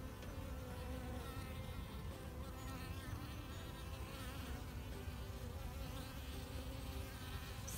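Honey bees in Georgia swarm at an opened hive during a mite-treatment check, producing a dense, continuous buzzing hum that stays close and steady throughout with no talk.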